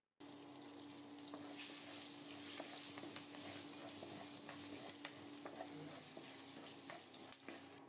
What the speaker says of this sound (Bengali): মাছ ভাজার এই তেলেই কালো জিরা ফোড়নে দেব।